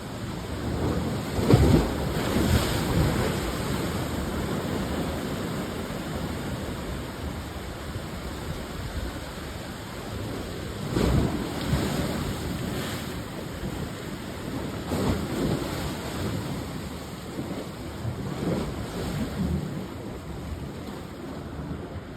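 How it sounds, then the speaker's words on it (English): Waves crash against shoreline rocks at Terrigal on the NSW Central Coast at sunrise, a loud, continuous roar of surf with heavier breaks surging every few seconds and no talking. "The waves against the rocks over here on my right."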